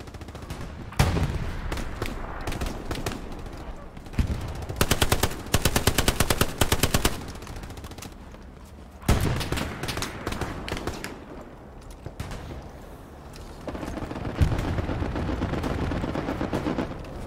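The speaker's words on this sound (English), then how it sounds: "Shots close, shots close." Video game battle on Omaha Beach: loud, sustained machine-gun bursts and rifle fire crackle almost continuously, some close and some distant, with brief lulls between heavy volleys.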